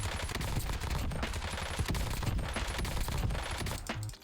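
Assault rifle gunfire in a first-person shooter game, a sustained rapid-fire burst of loud, dense shots lasting the whole stretch, with a brief tail at the end.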